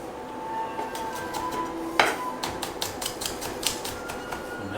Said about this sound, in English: we're just going to use the back of a knife. And we're going to chop this up as fine as you can